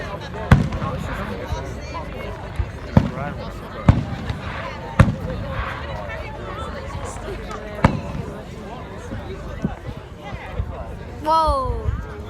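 Festival fireworks going off as a series of sharp bangs at irregular intervals, some loud and close, others muffled, under a steady crowd hubbub with excited voices talking throughout.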